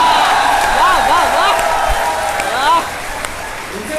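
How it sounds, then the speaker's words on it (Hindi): An audience applauds at a Hindi poetry gathering in Hathras, a loud, dense patter of many hands that fades near the end while a voice carries over the clapping. "वो तो ताली बजा रहे हैं"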